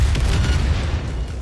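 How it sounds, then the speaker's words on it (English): A single booming blast of a mine crate exploding in Cyberpunk 2077, with a dull low-end thud and a short rumbling decay, loud and close. "Mine crate explodes."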